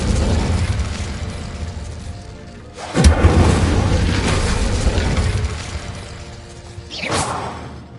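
An Incendio fire spell cast in Hogwarts Legacy lands with a loud whooshing burst and a booming flare, and a second, shorter whoosh follows a few seconds later over steady background game noise.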